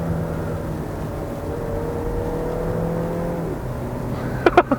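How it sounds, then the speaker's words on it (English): A 2013 Volkswagen Golf 7 accelerates from inside the cabin, with a droning engine note rising and then a quick drop in pitch at a rapid gear change, and a few sharp clicks near the end. "that gearbox is so quick"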